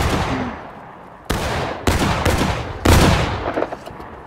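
Troops firing at will in a video game: bursts of gunfire crack in over a constant din of battle, with several loud volleys layered densely and overlapping, and no talk.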